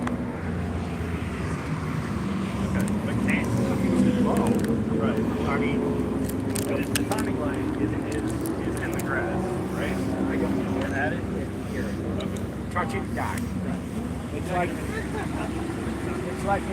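A Volkswagen Golf R drives past on the Nashville Superspeedway during the Tire Rack One Lap of America morning session. Its engine drone swells and fades over a steady background roar while people talk nearby.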